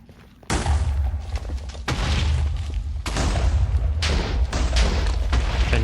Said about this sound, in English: Let's blow it up and see what we get.